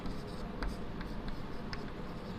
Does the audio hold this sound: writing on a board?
yes